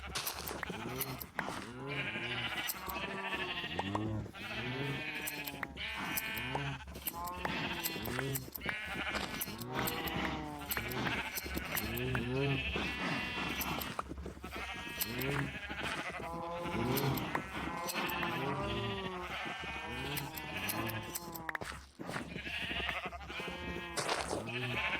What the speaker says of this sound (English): So pardon the noise of the sheep.